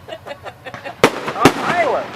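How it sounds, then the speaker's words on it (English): Fireworks at an outdoor summer picnic pop in two sharp bursts over nearby chatter, with crackling and fizzing trailing after the second bang. "Oh, fireworks!"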